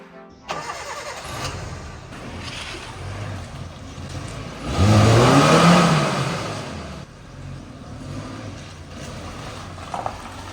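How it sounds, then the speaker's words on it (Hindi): A Maruti Gypsy engine revs hard with a surge in the middle, as one tyre spins. The engine drone stays steady and near throughout, and no one speaks. "ये वाला टायर स्पिन करने की बजाय दूसरा टायर स्पिन कर गया"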